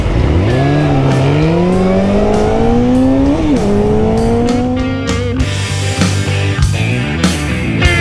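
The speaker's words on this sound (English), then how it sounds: "triple engine whir, I absolutely love it" A three-cylinder motorcycle engine whirs and revs hard close by, its pitch climbing steadily through the gears with brief dips at shifts, loud and continuous over road noise.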